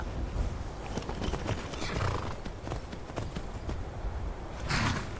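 Hooves clop in a steady rhythm on hard ground amid a dense wash of background noise in the video game Skyrim Special Edition, with a horse snorting briefly near the end.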